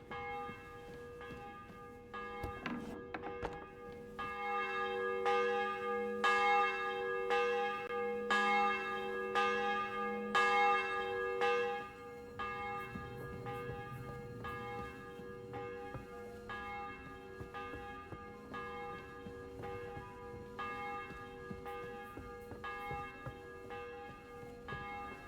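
A church bell in a video game tolls in a steady, evenly spaced rhythm of bright, ringing strikes that keeps going throughout, clear and prominent with no talk over it.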